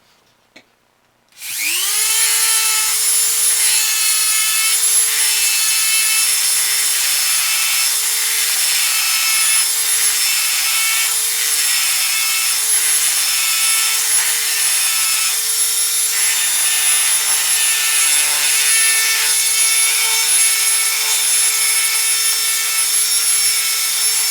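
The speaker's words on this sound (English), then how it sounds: "we need to take our little sanding drum and chuck it into our Dremel" A Dremel rotary tool fitted with a small sanding drum grinds a hopper clip, starting after a brief quiet moment and then holding a loud, steady high-pitched whine for over twenty seconds.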